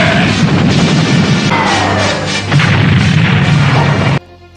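Big laser blasts fired repeatedly in a Dragon Ball anime fight, a loud continuous roar of booming energy with a brief dip and renewed surge before cutting off abruptly, with no talk.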